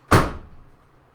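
A car door on a 1973-74 Chevy Nova, fitted with new bushings and lacking a check spring, swings and lands with a single sharp close-up thud that fades quickly.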